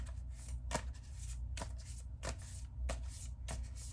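Tarot cards shuffled during a Halloween-themed ASMR session, giving soft papery riffles in about five evenly spaced bursts over a steady low background, close and quiet with no talking.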